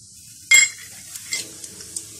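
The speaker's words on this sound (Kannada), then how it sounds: "ಸ್ವಲ್ಪ ಎಣ್ಣೆ ಬಿಸಿಯಾದ ತಕ್ಷಣ ಸಾಸಿವೆ ಮತ್ತು ಜೀರಿಗೆ ಹಾಕೋಣ" Mustard and cumin seeds drop into hot oil in a pan with one sharp loud sizzling burst, followed by a few faint crackles and pops as they settle, with no talk.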